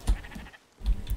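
A sheep on a farm in the video game Spiritfarer gives two short, close bleats separated by a brief gap, loud and clear with no talking over them.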